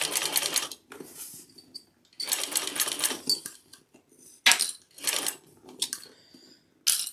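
A sewing machine stitching a bag in bursts of rapid, close mechanical clatter, several runs of a second or so broken by short pauses and faint clicks, with no talk.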